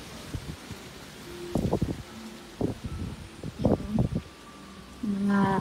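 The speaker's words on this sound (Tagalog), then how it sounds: "Amihan lang yung hangin na yan." Strong amihan wind gusting through leaves and hanging laundry outdoors, with bursts of rustling and flapping that come and go in uneven gusts over a steady airy background.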